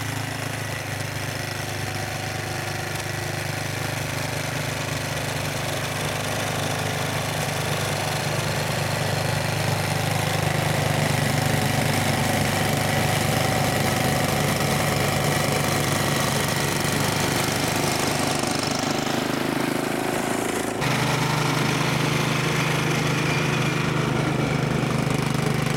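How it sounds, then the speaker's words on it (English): A snowblower clears a snowy driveway after a snowstorm, its steady engine drone running loud and continuous throughout, shifting slightly in pitch near the end as the load changes. "And there's Rick, snow blowing the driveway for about the 6th time this week."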